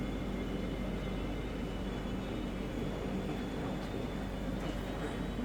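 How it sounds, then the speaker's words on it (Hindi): The Indore–Guwahati Express passenger train pulls out on its run to Kamakhya, a constant low rolling rumble of wheels and carriages, steady and fairly loud throughout. "डिपार्चर हमारी ट्रेन का शार्प ऑन टाइम 12:45 को हो गया है"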